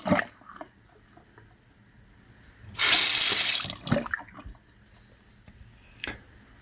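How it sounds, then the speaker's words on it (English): A household faucet leaking from its hot or cold side valve is turned on, giving a loud burst of running water for about a second, then shut off, with faint clicks and handling noises before and after. "when I turn on and off the water, it is leaking"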